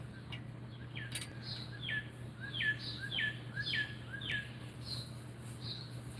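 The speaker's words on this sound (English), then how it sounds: "I hear a mourning dove." A mourning dove calls among a run of repeated chirping bird calls, about eight evenly spaced notes over a steady low background hum with no talk.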